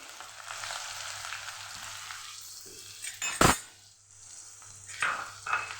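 Curry leaves and dried red chillies crackle and sizzle in hot oil in a pan for an aubergine-potato curry, a steady frying hiss broken by a sharp loud pop midway and a few clinks near the end.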